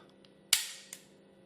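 The window on the slide of a Walther P99 pistol is pressed, giving one sharp metallic click followed by a fainter second click shortly after.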